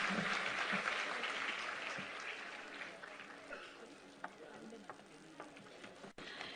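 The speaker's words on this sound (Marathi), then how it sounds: "एकदा पुन्हा जोरदार टाळ्या होऊन जाऊ देत मंडळी" Applause from an audience at a Women's Day event follows a speech, a broad patter of clapping that is loudest at first and then thins into scattered claps, with some speech underneath.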